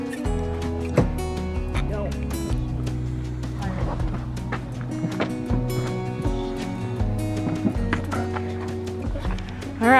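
Hooves of a horse during a ride thud at an irregular pace, mixed with tonal music-like sounds and talk throughout.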